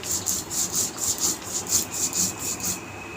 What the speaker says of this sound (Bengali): এটা পটলটা কষা করার জন্য মশলাটা আমি বেটে নিচ্ছি।